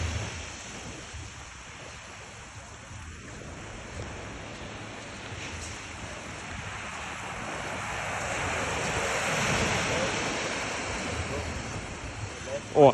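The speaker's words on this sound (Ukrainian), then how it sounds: "Немножко волнистое море," Choppy sea waves wash and roll steadily near a shore where kayaks are launched, mixed with wind noise on the microphone and swelling louder toward the end.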